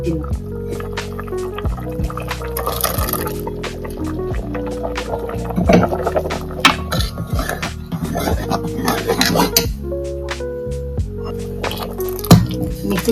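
Ground paste goes into a simmering mutton kurma with close, wet dripping, squishing and plopping sounds over a steady tonal background hum, and small splashes come through the whole pour.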